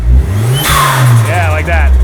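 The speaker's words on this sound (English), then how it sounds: "Rev it up a little bit. More." A 1985 Dodge minivan fitted with an SRT4 turbo engine revs hard, the engine climbing and swelling in pitch over a steady idle, with voices talking alongside.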